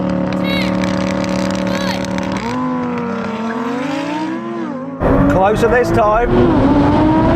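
Lamborghini Performante, 700hp Nissan GT-R and Porsche Cayenne Turbo GT drag racing, heard from inside one car: loud engine roar climbing in pitch through several gear changes, with rising whines, and a voice speaking briefly over it.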